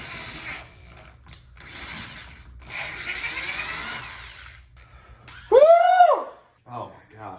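A power drill bores holes into a brand new Dodge Charger, giving short bursts of whirring and grinding separated by pauses, up close, with a voice exclaiming and chatter mixed in.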